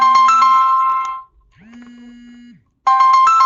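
A phone rings with an incoming call: a loud electronic ringtone phrase with bright repeating tones, a short gap and a sliding lower tone, then the melody starts again, close and alone.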